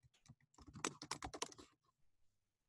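Fingers type a font name on a computer keyboard in a quick burst of close, crisp key clicks that speeds up in the middle, then stops and leaves quiet room tone.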